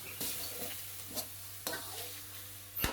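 Striped catfish stir-fried with dried chilies and ground pepper in a wok, with a steady sizzle of hot oil and several sharp scraping stirs of a spatula at irregular intervals, close and clear with no talking.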